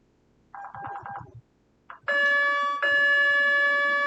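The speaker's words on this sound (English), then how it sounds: "Alarm." An alarm sounds alone: a buzzing electronic burst, a brief pause, then a loud sustained bell-like ringing tone that holds steady to the end.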